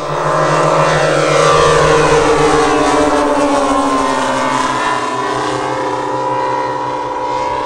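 Propeller-driven model airplane flying at the IMAA Europe model aircraft meeting at La Ferté-Alais, with a loud, steady engine drone whose pitch slowly shifts as it passes, continuous throughout.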